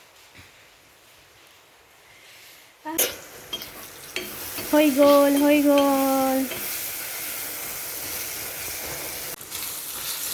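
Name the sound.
frying rice with egg, vegetables and ghee in pan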